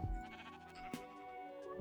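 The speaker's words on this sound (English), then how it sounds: "Now we have every color of sheep ready to be sheared." A sheep bleats in the Minecraft video game, a clear close wavering bleat with a faint sound effect partway through.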